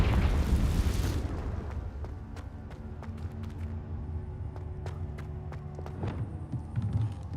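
A Confringo spell explosion in Hogwarts Legacy: a loud burst at the start rumbles and fades, followed by scattered sharp clicks and a second swell near the end.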